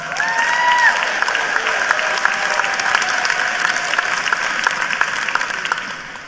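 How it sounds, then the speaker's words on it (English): Graduation audience at Joplin High School's 2019 ceremony applauding for Lucas Kino, a dense, steady wash of many hands clapping with some cheering, loud and sustained throughout before easing slightly at the end. "Let's give him a big round of applause."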